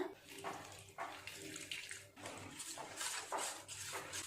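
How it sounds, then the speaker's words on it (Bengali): Arrowroot being stirred into cold water in a bowl, heard as faint, intermittent swishes and light spoon clinks that come in short, uneven bursts. "1 বাটি অ্যারোরুট নিয়ে ঠান্ডা জল দিয়েই গুলবো অ্যারোরুটটা।"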